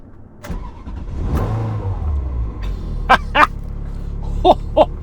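A Ferrari engine cranks and fires, settling into a steady idle, then gets two short, sharp throttle blips followed by two more near the end.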